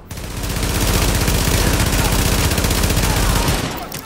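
Rapid automatic gunfire from a weapon in the video game Tom Clancy's The Division rattles loud and continuous for about four seconds, a dense burst of closely spaced shots.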